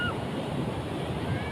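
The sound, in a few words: ocean waves at Pelabuhan Ratu beach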